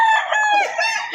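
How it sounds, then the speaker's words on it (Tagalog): A rooster crows once at a livestock auction market in Padre Garcia, Batangas, a loud, close, drawn-out call with a rising then falling tone, heard alone without talk. "Magandang manok ang hawak ni bossing"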